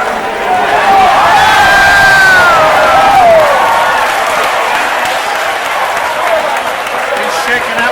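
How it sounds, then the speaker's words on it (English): A large crowd roars at the 2015 Kentucky Derby horse race in heavy rain, a loud sustained cheer and applause that swells and then holds steady as a commentator talks over it. "When they left the gate, the crowd roared, and American Pharoah went right to the fron"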